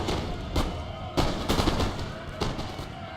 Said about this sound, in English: The battle starts off with my guys shooting at this random ass cavalry unit,